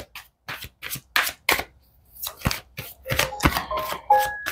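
Tarot cards are shuffled by hand in quick, crisp riffling bursts, a series of sharp papery flutters with short pauses between them, close and clear.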